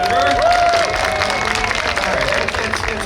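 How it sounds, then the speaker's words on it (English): A crowd applauds and cheers at a New York State Police Underwater Recovery Team demonstration, a dense, steady wash of clapping and shouts that stays loud for the whole stretch. "Let me hear your applause."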